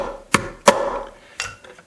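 Hammer tapping a metal punch on an Alvarez mandolin during neck repair: three or four sharp, close taps spaced irregularly, each with a short ringing decay, in a quiet workshop.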